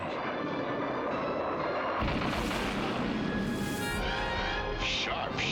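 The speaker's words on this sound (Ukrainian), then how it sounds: "Влучний постріл." A cartoon laser-gun blast from the Transformers G1 animated series, a loud sustained burst of harsh, buzzing energy that flares up midway and rings on with bright tonal streaks, dense and close.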